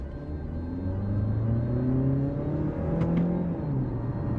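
A Mazda CX-5 engine drones and rises steadily as it accelerates in manual mode during a race, with rising pitch, a shift dip midway, and road rumble close inside the cabin.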